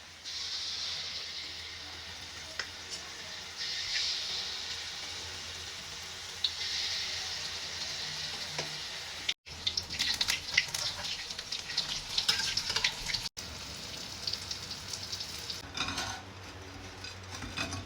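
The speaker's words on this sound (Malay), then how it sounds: "Api dah panas, sekarang kita goreng ya" Cempedak fruit pieces coated in batter fry in hot cooking oil, a steady close sizzle and bubbling, broken by clinks and scrapes of a utensil against the pan.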